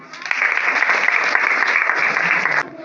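Steady applause from a group at a school seminar, dense clapping at a strong even level for nearly three seconds before it cuts off abruptly near the end.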